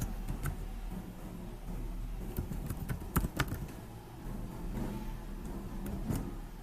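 Light typing on a computer keyboard while entering an Excel formula, soft irregular key clicks over a steady low background hum, a short burst of sharper taps in the middle, close and quiet.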